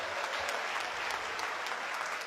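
An audience at an Aligarh gathering applauds together, a steady, fairly soft wash of clapping that holds evenly from start to finish.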